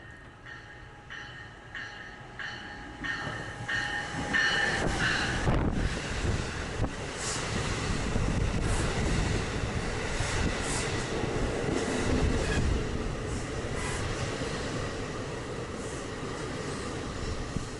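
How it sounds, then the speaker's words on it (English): An NJ Transit commuter train rolls into a station and decelerates, its wheels and cars rumbling loudly close by, with wind buffeting the microphone and a rising hiss as the train passes. "Watch how the train quickly slows down."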